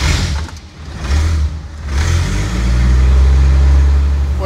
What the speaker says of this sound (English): Here we go, we'll see if the Jeep starts.